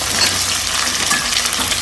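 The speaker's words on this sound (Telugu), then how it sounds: "ఒక కప్పు ఎర్రగడ్డలు వేస్తాను." Onions sizzle and fry in hot oil with mustard seeds, cumin, dried red chillies and curry leaves, a steady, dense crackling hiss with faint stirring scrapes, close and continuous.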